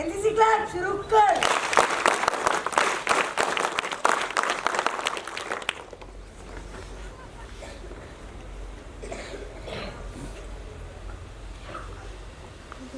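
NCC cadets at a Sainik School clap together in loud, dense applause for about six seconds, then it stops abruptly, leaving quiet room noise with faint voices.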